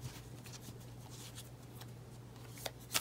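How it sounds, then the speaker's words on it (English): Tarot cards being shuffled by hand, faint soft riffling and sliding with a few sharper snaps at the end, close and quiet over a low background hum. "one more shuffle here for Sagittarius"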